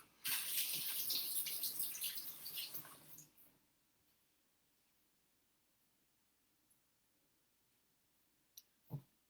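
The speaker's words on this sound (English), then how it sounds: "I'm going to rinse my hands." Running tap water splashes over hands being rinsed in a kitchen for about three seconds, then the flow stops, leaving near silence broken by a few faint clicks and knocks.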